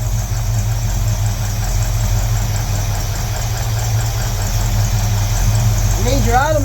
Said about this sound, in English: See how it starts to stumble as you screw it in?